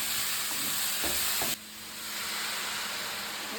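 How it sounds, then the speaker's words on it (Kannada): Onions fry in a pan for a mushroom biryani, making a steady broadband sizzle and hiss with a few brief stirring scrapes. Midway the sizzle abruptly drops to a softer level. "ಜಸ್ಟ್ ಅದೊಂದು ಈರುಳ್ಳಿ ಎಲ್ಲ ಸ್ವಲ್ಪ ಸಾಫ್ಟ್ ಆಗೋ ತನಕ ಫ್ರೈ ಮಾಡಿದರೆ ಸಾಕು"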